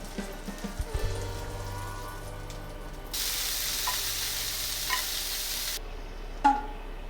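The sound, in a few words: cabbage rolls sizzling, steam-frying in pan on low heat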